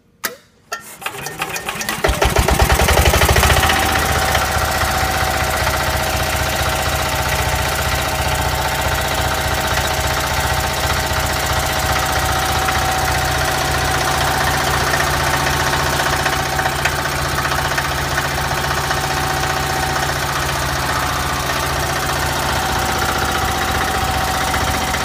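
A small Onan MDJA generator engine sputters to life after a brief start, then settles into a steady, loud running drone with a constant mechanical hum, missing slightly from air bubbles in the fuel line.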